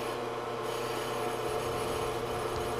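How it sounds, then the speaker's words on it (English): Spindle motor of an RELS model 2000 brake lathe set up for machining a composite rotor, running with a steady, even mechanical hum and a faint whir, with no voices. "turn on the spindle motor."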